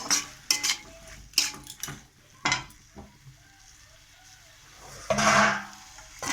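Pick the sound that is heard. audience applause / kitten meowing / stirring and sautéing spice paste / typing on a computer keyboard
stirring and sautéing spice paste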